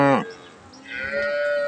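A Holstein Friesian cow, six teeth old, moos loudly at a cattle market in one short harmonic call. Quieter market sounds and a distant tonal voice follow it.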